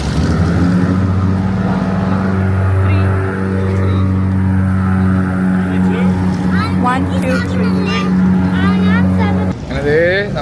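An Everglades airboat engine runs loud and close with a deep, steady droning roar and strong harmonic hum before cutting off near the end, while people talk over it.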